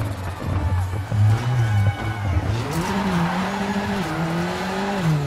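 Rally car in WRC 6 at Tour de Corse, engine droning and shifting pitch as a handbrake slide sends the tyres skidding and squealing, loud and close throughout.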